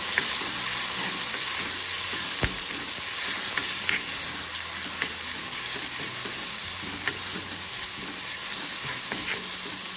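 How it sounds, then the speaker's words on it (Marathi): Onion and tomato with spices sauté in hot oil for a dry brinjal dish, giving a steady close sizzle with occasional stirring scrapes and sharp pops, a low hum beneath. "कांदा छान टोमॅटोसोबत मस्त परतून घ्यायचं"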